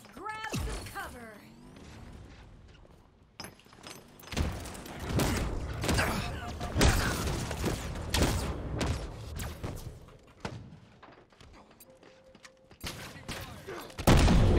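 Gunfire in the video game Halo Infinite during a Fiesta match, with bursts of shots, thuds and mechanical clanks mixed with game sound effects and character voice lines.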